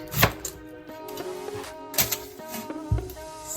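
A quarter onion being chopped into small pieces on a board, a close knife tapping in irregular sharp strikes with short pauses between, no speech.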